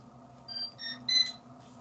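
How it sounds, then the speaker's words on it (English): Heated high-flow nasal cannula unit sounding its alarm in a clinical setting, a series of three quiet electronic beeps with short gaps between them over a low steady hum. "your alarm's going to stop because you fixed the problem"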